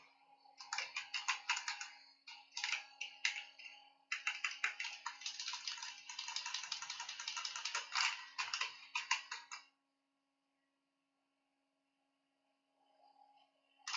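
Rapid typing on a computer keyboard in bursts of clicks for about ten seconds, close and clear, with brief pauses between runs and then quiet, with no talking.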